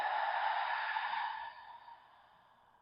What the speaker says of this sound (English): take a slow deep in breath and a slow deep out breath